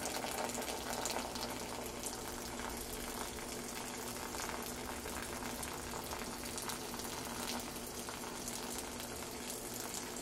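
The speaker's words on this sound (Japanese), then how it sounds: "そっと乗せるっていうのはこの低い位置からお湯を刺すんですね。" Hot water is poured gently from a low height onto ground coffee for the bloom, a soft, steady hiss and trickle that carries on unbroken at low volume.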